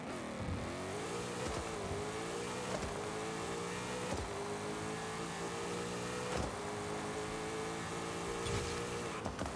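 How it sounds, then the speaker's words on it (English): A 2024 Ford Mustang Dark Horse in the racing game Forza Horizon 5 does a burnout and a drag launch. Its engine roars loudly and continuously, repeatedly climbing in pitch and dropping back as it shifts gears. "Alright, let's do this burnout and let's hit quarter mile."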